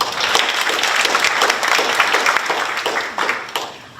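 An audience at a State of Schools address applauds the school maintenance department, a loud, dense burst of clapping that swells and then tapers off near the end.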